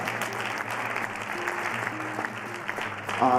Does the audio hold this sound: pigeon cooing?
no